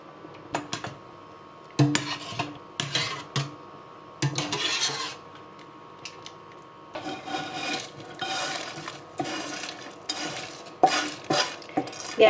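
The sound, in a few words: rice being stirred and roasted in a pot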